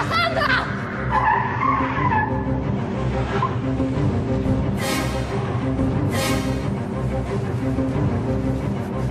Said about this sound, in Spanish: viene un carro